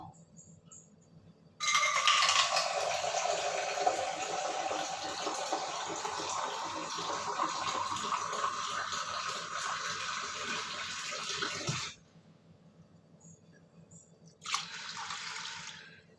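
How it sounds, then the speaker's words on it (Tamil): Water pours steadily from a tap over ration rice set to soak, a loud broad rush lasting about ten seconds, then stopping, followed by a quieter brief second pour near the end. "இப்போ இதில் தண்ணி ஊற்றி ஊற வச்சிடலாம்."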